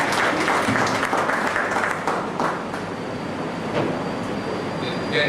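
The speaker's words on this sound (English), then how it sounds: "A round of applause." Audience at a university ceremony for newly employed academic staff applauds steadily, a broad continuous clatter of many hands that dips slightly midway before swelling again.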